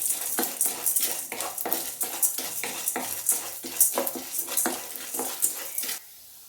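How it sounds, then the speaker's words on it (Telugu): Chana dal and urad dal being dry-roasted in a pan for curry leaf spice powder, heard as a steady close rattle of lentils stirred and scraped with a spoon, continuous until it stops abruptly near the end, no talk. "పచ్చశనగపప్పు, ఉద్దిపప్పు వేసి కొంతసేపు వేయించుకున్నాం."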